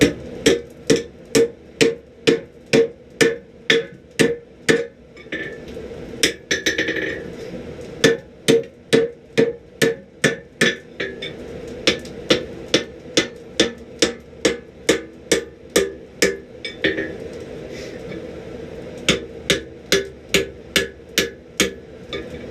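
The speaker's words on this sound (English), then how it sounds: "We'll take it and we'll bend it right over the anvil." A steel bar, 3/8 inch thick, is hammered over an anvil to bend it for forge welding, with loud, evenly spaced ringing hammer blows close up, coming in long rhythmic runs with short breaks.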